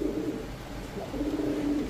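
A cobra pigeon coos close by, a soft, low, rolling warble repeated in short pulses with no talking over it.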